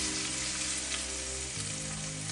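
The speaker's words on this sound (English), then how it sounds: "that nice sizzling sound." Chicken sizzles and crackles steadily in a hot frying pan, a dense close hiss with a low hum underneath.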